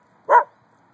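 A single short dog bark, close and clear, breaks an otherwise quiet background.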